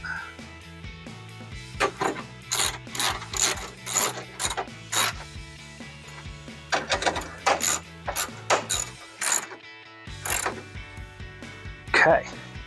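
A hand ratchet clicks in quick bursts while tightening headlight mounting bolts on a 2012–2015 Toyota Tacoma, with steady low background hum and short pauses between runs.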